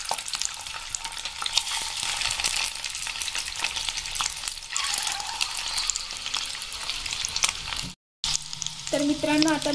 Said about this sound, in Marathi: आता मी इथे अंडे फ्राय व्हायला टाकते आणि आपल्याला अंडे बारीक गॅसवरती फ्राय होऊ द्यायचे आहे